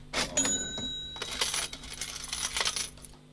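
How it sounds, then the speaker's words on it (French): Coins dropping into a cash register, a cluster of close metallic clinks and jingles with a bright ringing tone early on, then further scattered clattering that fades out, no speech. "Il s'agit d'une caisse enregistreuse dans laquelle on boutique les pièces."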